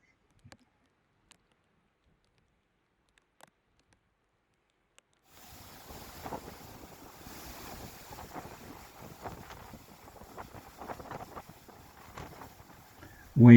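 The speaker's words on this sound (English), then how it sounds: "Waves at Big Cove." Waves break and wash against the shore at Big Cove on Brier Island, a windy, rushing surf sound under gusty microphone buffeting that begins after several seconds of near silence and continues steadily to the end.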